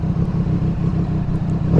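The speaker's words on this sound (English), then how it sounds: "now that the matting inside the exhaust is burned in and settled, the sound is much smoother, much deeper" A Triumph Street Triple 765R motorcycle fitted with an SC Project exhaust idles with a steady, deep, smooth rumble, loud and close, swelling slightly at the very end.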